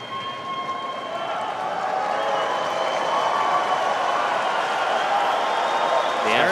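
A tennis crowd at the US Open, in a 2023 fourth-round match between Alexander Zverev and Jannik Sinner, applauds in a steady, dense roar of clapping that rises slightly and holds throughout.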